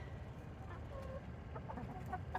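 Soft, low clucking from a few hens being fed carrots and greens, murmuring continuously with occasional brief higher notes, fairly quiet and close by.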